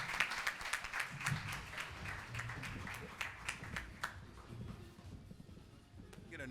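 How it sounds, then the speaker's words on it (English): Audience applause at a 2023 carnival media launch, dense clapping from a room of people sustained throughout and slowly thinning toward the end, with a few scattered voices underneath. "Get another round of applause"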